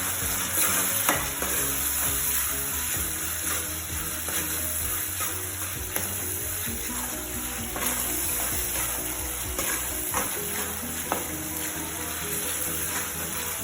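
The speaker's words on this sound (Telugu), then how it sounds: "ఇవి కొంచెం ఆనియన్స్ కొంచెం వేగగానే ఇందులో కొంచెం టమోటా," Onions and tomato frying and sizzling in a pan for chicken curry, a steady crackling hiss throughout with occasional stirring scrapes, close and continuous with no talk.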